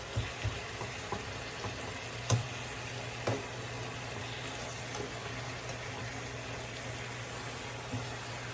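Cheese melting in a pan with spaghetti squash for a cheesy Mexican casserole, giving a steady soft sizzle and frying hiss while a utensil stirs and scrapes now and then, with no talking over it.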